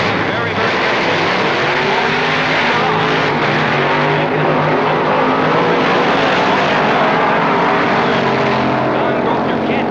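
Engine roar from 1966 drag racing, a Chevy 2 and a 4-speed Plymouth, sounding loud and continuous for the whole stretch with a broad, rumbling drone.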